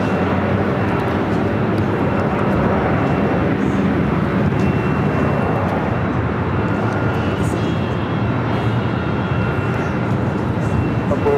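A jet airliner takes off at LAX with a loud, continuous roar of engines that holds steady throughout, mixed with broadband rumble and faint background voices.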